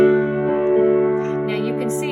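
Piano in a tutorial on a song from Aladdin, playing spread D block chords with a rhythmic pattern and notes thrown in between; a steady, sustained, moderately loud passage.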